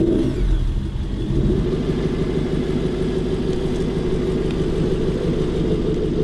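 An Aston Martin Vantage GT8 engine idling and revving up as the clutch goes in, producing a loud, steady, throaty rumble with pulsing low harmonics close to the car.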